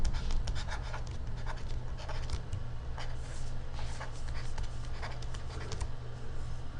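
Marker or chalk scratches out handwriting on a board during a math lesson in quick strokes and taps, close and moderately loud over a steady low room hum, with no talk.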